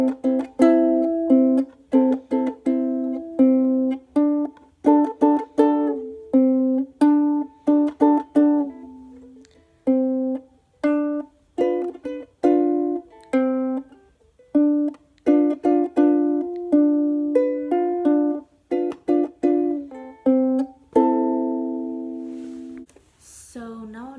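Ukulele plays the intro to a song: a close, clean run of plucked and strummed chords in a steady, bouncy rhythm, ending in one final ringing strum.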